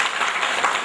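Brief patter of applause from an audience at a felicitation ceremony, a short, steady burst of many hands clapping heard alone.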